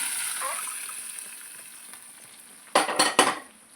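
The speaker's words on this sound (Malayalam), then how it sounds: "അങ്ങനെ നമ്മുടെ കറി ഇതിലോട്ട് ഒഴിക്കാം, താളിച്ചതിനകത്തോട്ട്." Sambar curry poured into hot tempering of chillies and curry leaves in oil bursts into a loud, crackling sizzle in two quick surges after a quiet stretch of faint background hiss.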